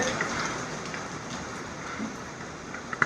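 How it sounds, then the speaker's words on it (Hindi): Rain falls during an outdoor yoga session, heard as a steady, soft, even hiss of drops on surfaces. A few slightly sharper drip ticks stand out near the end. "आप देख सकते हैं पूरी बरसात है, पूरी रेन है, छम छम छम छम बारिश।"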